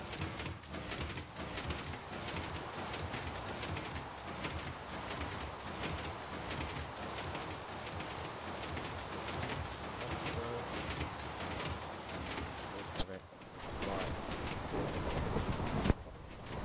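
A Minecraft train runs over a level crossing in the Xbox 360 game, giving a steady, dense rattling rumble throughout with a brief dip near the end, then a sharp click before it resumes.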